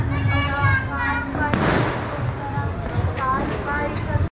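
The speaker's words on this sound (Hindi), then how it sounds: "फायर मार रहे हैं अंकल।" Firecrackers going off during Diwali outside a shop, a loud crackling burst in the middle amid chattering people and excited children's voices throughout.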